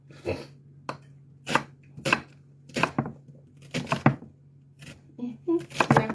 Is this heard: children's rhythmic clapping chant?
no